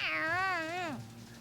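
A cartoon cat in the Tales of Xillia 2 role-playing game lets out a single drawn-out, wavering meow that falls in pitch and fades, heard clearly with no talking.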